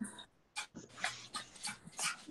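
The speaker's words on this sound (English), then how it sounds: "Puppies are barking outside" Puppies outside give a run of faint yips and whimpering barks, about half a dozen short bursts in an irregular rhythm, heard at a distance.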